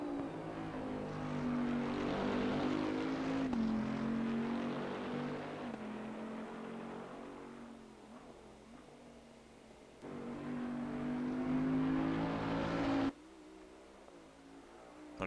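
2020 Bentley GT3 race car engine in Assetto Corsa Competizione around Brands Hatch, steady droning tone rising and falling through the gears, with a quieter stretch and a sharp cut near the end.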